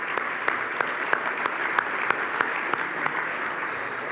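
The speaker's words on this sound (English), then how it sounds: "Yes, that's worthy of an applause." Steady applause from a crowd at a county chamber of commerce dinner, even clapping throughout with a few sharper individual claps standing out, heard alone without speech.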